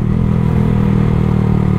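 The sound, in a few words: motorcycle loud aftermarket exhaust sound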